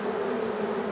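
A small swarm of honeybees, about the size of a baseball, drones in a continuous low buzz heard up close, with no voices over it.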